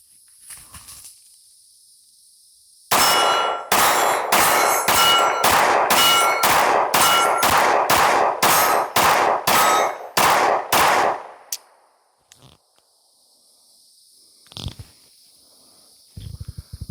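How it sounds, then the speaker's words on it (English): Rapid string of Sig Sauer P229 Pro pistol shots on an outdoor range, each crack followed by a metallic ring off steel targets, about fourteen evenly paced rounds, loud and close, then quiet with faint distant noise. "Let's put some lead on steel,"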